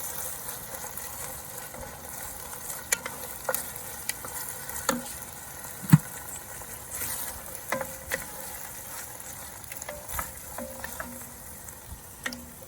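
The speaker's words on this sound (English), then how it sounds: "Gonna mix these in here with the onions and just get a little bit of caramelization on those peppers." Peppers and onions sizzle steadily in a pan as they caramelize, with occasional sharp utensil clicks and scrapes from stirring, close and moderately quiet.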